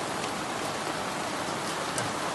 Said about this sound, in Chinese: 今天下雨了